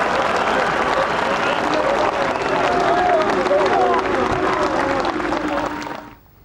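Golf gallery cheering and applauding at the 8th hole of the 2006 Ryder Cup near the River Liffey, a loud sustained roar and clapping that holds steady for about six seconds before cutting off.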